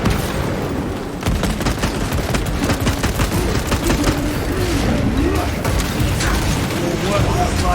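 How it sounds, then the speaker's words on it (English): Frag grenade detonation and surrounding combat in Space Marine 2, with loud rapid cracks, mechanical clatter and bursts layered throughout and a voice speaking over the din. "Deploy frag grenade!"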